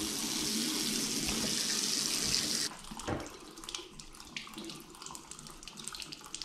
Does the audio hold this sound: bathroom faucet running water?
yes